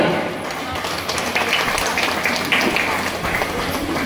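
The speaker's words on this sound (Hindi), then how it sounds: "सभी लोग खड़े होकर जोरदार ताली से उनका स्वागत करें।" An audience at an office opening ceremony stands and claps loudly in welcome, a continuous dense patter of many hands, with a voice briefly speaking over the crowd noise.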